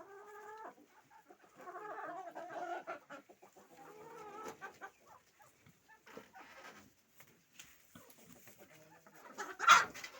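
Soft, scattered clucking from chickens in short bursts with quiet gaps, ending in a sharp louder squawk near the close.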